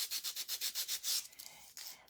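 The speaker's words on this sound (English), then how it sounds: "I'm just kind of sanding the edges just a little bit." Small cut-out snowman piece having its edges sanded by hand, a quick run of rhythmic scratchy rubbing strokes close to the mic, then a pause and a few lighter, irregular rubs.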